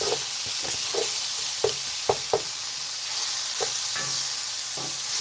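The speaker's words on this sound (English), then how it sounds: "go ahead and stir my onions up" Onions and garlic sauté in a pan under a constant soft sizzle, while a utensil stirs and knocks against the pan in scattered taps and scrapes, and no one speaks.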